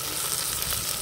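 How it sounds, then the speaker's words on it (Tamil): Tomatoes and brinjal sauté together in a pan with a steady, dense sizzle and crackle, close and continuous throughout. "ஒன்றா சேர்த்து வதக்க வேண்டியதான்."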